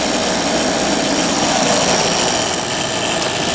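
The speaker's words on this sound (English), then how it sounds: "That compressor definitely is rototubulating. It's making some weird noises though." Compressor of a 2000 Whirlpool 10,000 BTU air conditioner running and making odd noises, a loud dense mechanical whir and rumble that carries on steadily without any talking.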